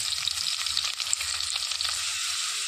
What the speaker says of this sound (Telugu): కొద్దిగా కరివేపాకు, సన్నగా తరిగి పెట్టుకున్న ఉల్లిపాయలు వేసేసుకొని వేయించుకోవాలి.